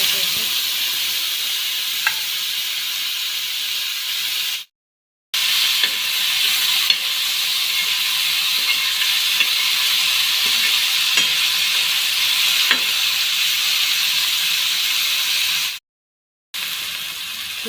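Cumin and mustard seeds sizzle in a splash of oil on a flat iron griddle over a gas flame, a dense, continuous hiss with scattered faint pops, cut by two short silent gaps.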